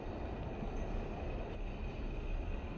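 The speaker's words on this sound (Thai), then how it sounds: "หลังจากเช็คเอาท์ที่โรงแรมเสร็จแล้วก็มาขึ้นเมโทรไป Union Station ที่สถานี Pershing Square ครับ" A Los Angeles Metro subway train running between Pershing Square and Union Station gives a steady, loud rumble and rolling roar from start to finish, with no voices.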